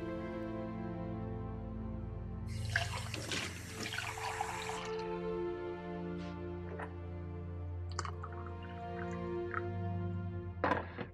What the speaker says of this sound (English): Then I have to clean all these dishes.